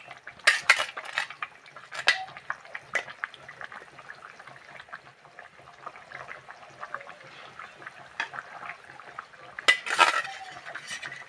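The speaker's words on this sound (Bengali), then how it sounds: "এবার আমি দিয়ে দেব মাছগুলো, ভাজা করে রাখা মাছ দিয়ে দেবো।" Fried pabda fish goes into a simmering curry of potato, eggplant and beans, with soft bubbling and scattered clinks and scrapes of a spoon against the pot, a few louder knocks near the start and end.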